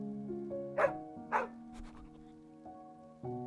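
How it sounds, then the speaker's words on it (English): A dog gives two soft, short barks over a gentle musical backdrop, used as a sound effect in a Christmas children's bedtime story. "With a wagging tail and a soft bark, Christmas would call the other dogs to come"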